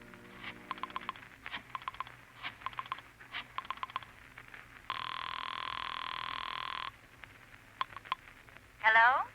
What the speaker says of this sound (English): you dial Julie's private phone at the club